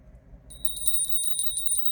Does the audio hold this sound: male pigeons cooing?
no